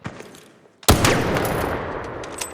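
Osprey sniper rifle shots in the video game Arc Raiders, a single sharp, loud close report followed by a long rolling echo that slowly fades, a faint quieter crack near the end.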